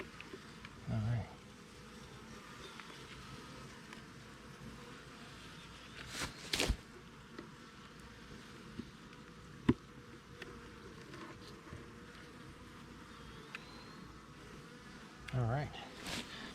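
Honey bees buzz steadily around an opened beehive during frame inspection. The hum is low and constant, with a few brief handling knocks and bumps and occasional faint voices.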